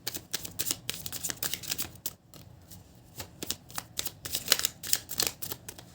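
Slippery tarot cards shuffled by hand, a rapid close stream of crisp riffles and slaps that continues throughout with only a brief pause, fairly quiet and with no talking.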